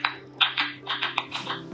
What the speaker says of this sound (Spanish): Este es el sonido de una planta con sed.